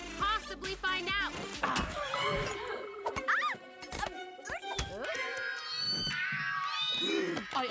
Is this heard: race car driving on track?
no